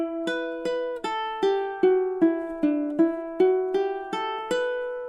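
Ukulele picking God Rest Ye Merry Gentlemen in campanella style, about a dozen plucked notes at a steady pace that ring into one another, close and unaccompanied.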